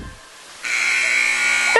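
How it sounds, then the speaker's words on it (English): A buzzer at a college volleyball match between Piedmont and Oglethorpe, sounding as a sustained, steady loud tone that starts abruptly and holds to the end, with no talk over it. "5 seconds till the buzzer sounds"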